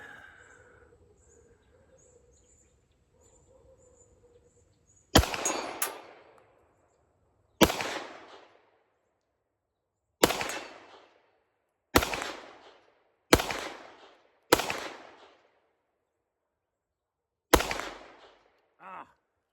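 Seven sharp, loud shots from a Springfield SA-35 handgun fired at an outdoor range, spaced irregularly a few seconds apart, each with a decaying echo, after a quiet start with faint birdsong.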